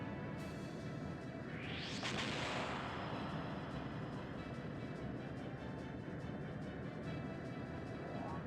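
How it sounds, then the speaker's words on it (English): A ship's cannon in the video game Skies of Arcadia Legends fires one booming shot with a rushing whoosh, set against a dense, continuous game background. "Finally hit with the cannon."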